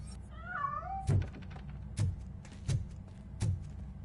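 A cat character in a video game lets out a clear wavering meow, followed by four dull, evenly spaced thuds like footsteps or bumps, close and without talk.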